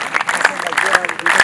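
A church congregation clapping together, a loud irregular patter of many hands close by, with a voice talking over it.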